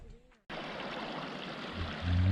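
Creek water flowing on a New Mexico homestead, a steady soft rushing trickle that starts abruptly after a brief quieter moment and swells slightly toward the end.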